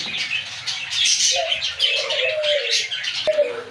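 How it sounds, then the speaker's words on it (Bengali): Caged pigeons coo in low, soft bursts alongside thin chirps, with a constant rustle and a brief knock near the end, close and moderately loud, no talking. "হ্যাঁ একদম কিন্তু ফ্রেশ কবুতর"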